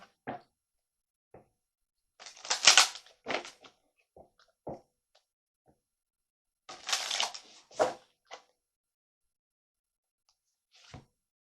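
A tarot card is drawn from the deck during a reading: two bursts of soft shuffling and card rustle, each followed by a few light taps and knocks. The sounds are close and quiet, separated by silence.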